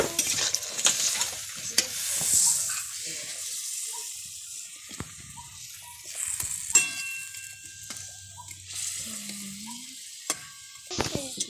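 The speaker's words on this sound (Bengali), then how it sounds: "এবার ভেজে রাখা মাছগুলো দিয়ে দেবো।" Fried fish goes into a pan with a little water, giving faint sizzling under scattered clinks and scrapes of stirring, with brief quiet stretches between the sounds.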